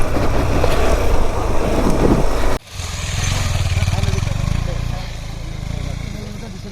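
A Bajaj Dominar 400 motorcycle rides an off-road track at the FMAE moto park. Its engine drones loud and close with steady throbbing, breaks off sharply for a moment, then resumes slightly softer with wind buffeting the microphone.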